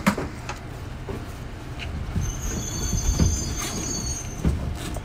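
A train climbs toward Mount Fuji with a steady rolling rumble of wheels on rail, a thin high metallic squeal running through much of the stretch, and a few sharper clunks, heard close from inside with no talking.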